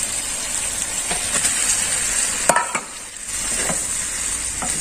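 Intestines for satay stirred in a hot pan, a steady close sizzle with soft scraping stirs and a few sharper spoon knocks against the pan.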